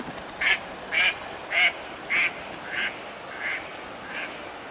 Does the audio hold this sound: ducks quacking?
yes